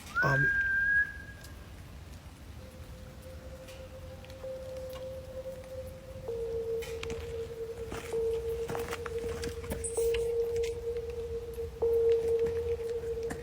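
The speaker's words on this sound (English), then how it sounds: "they suddenly hear a loud whistle coming from the woods" A loud, sharp whistle rises briefly at the start, then a long steady whistled tone holds for several seconds over a quiet outdoor background.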